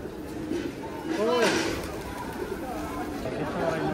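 Pigeons at the Shah Jalal shrine in Sylhet give a soft, brief coo amid a busy background of crowd chatter and voices.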